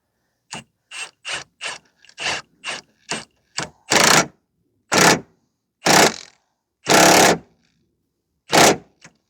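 A hand ratchet tightens a front lower control arm bolt on a 2006 Mazda 3 2.3: quick bursts of clicking, first in short rapid pulls, then longer, louder cranks separated by pauses, close and alone.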